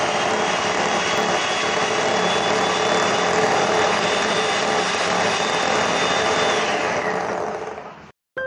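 An electric mixer whirs continuously as egg yolks and sugar for a chocolate cake batter are beaten, a steady high-pitched motor drone that slows and cuts off near the end.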